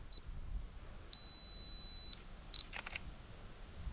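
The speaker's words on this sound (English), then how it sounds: "with the 2-second timer set, just take a look. I hope you can see that well enough in the screen. Let's try a shot." A camera's 2-second self-timer sounds a brief beep, then a steady tone for about a second, another short beep, and the shutter fires with a quick double click in a quiet outdoor setting at sunrise.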